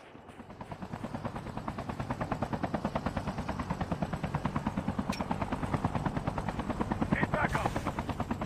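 A helicopter in the mobile shooter Call of Duty Mobile beats with a fast, steady rotor chop throughout, with brief bursts of distant gunfire near the end.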